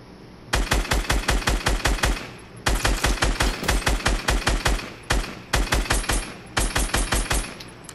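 Rapid automatic gunfire in Fortnite, loud and close, fired in several long bursts of evenly spaced shots separated by short pauses.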